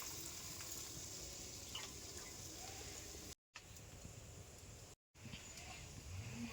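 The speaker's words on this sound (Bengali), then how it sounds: "এর মধ্যে এবার দিলাম 1 বাটি জল।" A bowl of water is poured into a pan while cooking cashew paneer, a steady close liquid rush and splash running throughout with two brief gaps.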